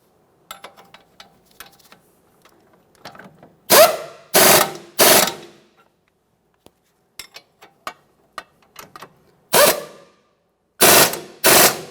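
A hand ratchet snugs bolts on the front brake of a 2014-2019 Toyota Corolla, with scattered light clicks early on, then loud bursts of rapid ratcheting close up, separated by pauses and more small tool clicks.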